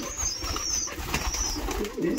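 A pigeon coos softly in low, rolling calls close by, with faint higher chirps in the background.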